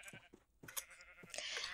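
Sheep in a Minecraft-style game bleat several times in short wavering calls, close and clear, with no talking over them.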